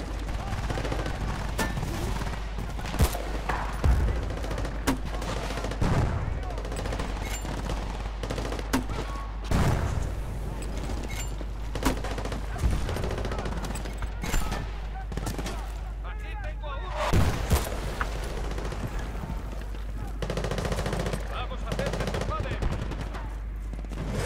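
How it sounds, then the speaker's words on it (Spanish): Repeated gunfire and bursts of automatic fire from the video game Battlefield: Bad Company 2 crackle continuously across a dense battle soundscape, with sharp loud shots scattered throughout. "No sé dónde me está disparando eso."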